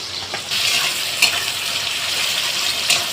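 Onions fry in a pan with a bright, steady sizzling hiss, close and continuous, broken by a couple of quick stirring scrapes and no voices.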